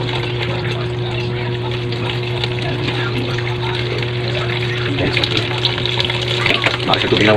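Water pours steadily into a cooking pot while chicken halang-halang, a spicy broth dish, is being made, a continuous close splashing and running sound over a low steady hum, getting a little louder near the end.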